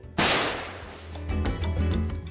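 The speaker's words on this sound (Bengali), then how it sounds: "নাতনি তার খেলনা পিস্তল দিয়ে গুলি করল" A single sharp crack from a toy pistol fired by a small child, loud and close, followed by a ringing, clattering tail that hangs in the room for about two seconds.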